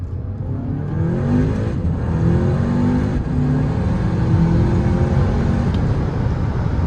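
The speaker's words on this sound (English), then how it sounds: "We get ready for a first gear pull." A 2020 Audi A3 with new spark plugs and RS3 coil packs pulls hard in first gear, its engine note climbing in a loud, steady rev that stays close and continuous throughout.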